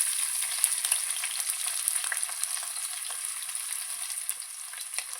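Sliced onion wedges going into a hot mustard-seed and cumin tempering, giving a bright, continuous sizzle with scattered crackles and pops that stays close and even throughout.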